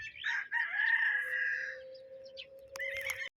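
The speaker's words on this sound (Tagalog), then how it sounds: "Ito yung mga manok mga boss." A rooster on a farm gives a long, clear cock-a-doodle-doo crow close by, followed by a shorter second call, with no talking.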